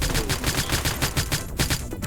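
Sustained automatic gunfire in a video game, a dense rapid stream of shots about twelve per second, loud and continuous with brief gaps, no talking over it.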